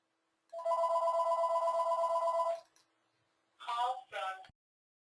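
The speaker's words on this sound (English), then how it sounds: "Sorry about that phone, Linda will get it real quick." An office telephone rings near and loud in one long electronic trill, then two shorter bursts after a pause.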